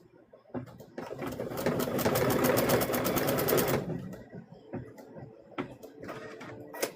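An embroidery sewing machine stitches out Christmas ornaments with a fast, steady mechanical rattle that builds loud for a couple of seconds, then stops, leaving quieter clicks and handling sounds.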